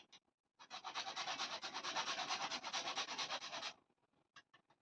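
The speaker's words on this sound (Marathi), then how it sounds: "थोडस जायफळ किसून टाकले" Nutmeg grated over a small grater into a sweet pumpkin dough, a steady close rasping scrape lasting about three seconds, with a few faint scratches before and after.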